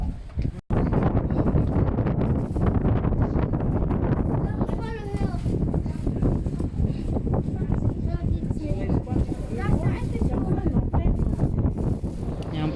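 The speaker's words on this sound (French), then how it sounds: "Il y a du vent de fou, Sandra." Strong wind rushes across a high walkway in Paris and buffets the microphone with a constant, rough rumble while people talk throughout.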